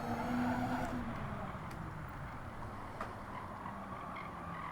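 Skoda VGT race car in Gran Turismo, on a time-attack run at Tsukuba. The engine drones loudly and steadily throughout, with a faint tyre scrub and skid noise mixed in.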